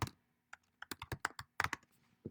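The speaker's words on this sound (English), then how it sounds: "Sorry, I'm typing super fast." Fast typing on a computer keyboard, a quick run of sharp close key clicks in irregular bursts with short pauses, no voices.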